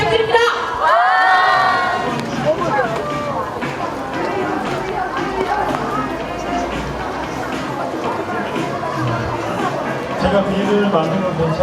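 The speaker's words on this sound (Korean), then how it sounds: "이 소리보다 더 크게 박수 부탁드립니다." A crowd at an outdoor rally in Daegu claps and cheers, with shouts and a raised voice near the start, then lively mixed clapping, chatter and movement continuing throughout.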